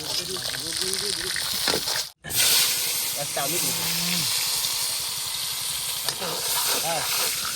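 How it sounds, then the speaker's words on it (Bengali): Snakehead fish caught from a canal fry in hot oil at an outdoor picnic. A loud, steady sizzle and hiss runs throughout, broken only by one brief gap, with voices talking over it. "তেল রেডি, এইবার ভাজা চলবে, জবরদস্ত ভাজা চলবে"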